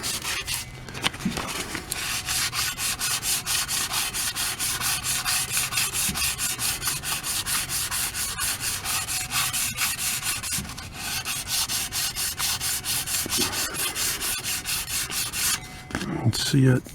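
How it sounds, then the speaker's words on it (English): Stainless steel exhaust pipe being sanded by hand with 400 grit sandpaper, a steady, continuous rhythmic rubbing and scraping of close strokes that runs almost without a break, with a short pause near the end. "I'm going to start sanding with 400 grit."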